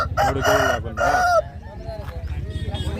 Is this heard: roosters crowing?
yes